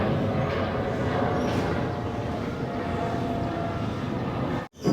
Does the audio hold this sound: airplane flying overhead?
yes